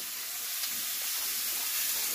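Sattu, roasted gram flour, fries in a very hot wok, giving a continuous close hiss and sizzle with no voices.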